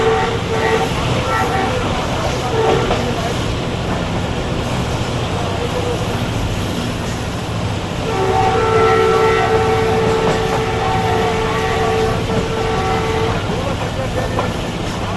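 The Shalimar Express rumbles along steadily, heard from a coach right behind the locomotive, a loud continuous rolling roar with tonal whine and horn-like tones near the end; a voice talks over it at times.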